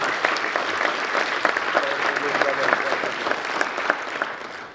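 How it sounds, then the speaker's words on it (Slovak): Audience applause at a Slovak book launch and concert event in Myjava, a dense, steady wash of many hands clapping throughout, loud and continuous with no talk on top. "Zaslúžiť to potlesk."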